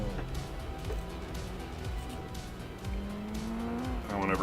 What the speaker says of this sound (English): The car that I'm in now is the Death Wish Garage RX-7 FC.